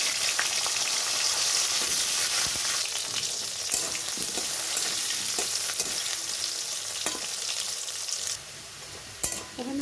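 Potatoes frying in a pan, a dense close sizzle with stirring scrapes throughout, a few clinks near the end, no speech.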